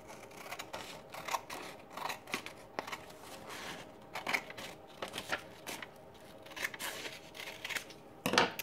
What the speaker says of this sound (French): Et on va ensuite couper avec nos ciseaux le morceau d'extra.